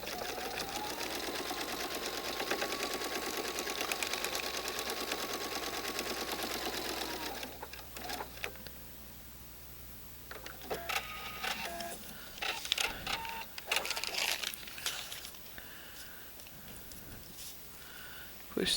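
Sewing machine stitching a quilt block along marked lines, a steady close whirring run for several seconds, then stopping into scattered clicks and handling noises.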